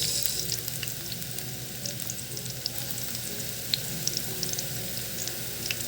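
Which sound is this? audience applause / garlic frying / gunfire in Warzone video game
garlic frying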